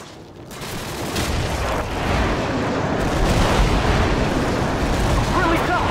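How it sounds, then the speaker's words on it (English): Heavy rumbling blasts from an airstrike in Call of Duty 4: Modern Warfare that build into a loud, sustained roar of explosions and gunfire lasting several seconds. "Friendly airstrike on the way!"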